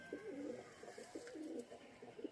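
Domestic Bengali village pigeons coo softly at a backyard loft, a few faint, repeated throaty coos following one another in a quiet setting with no talking.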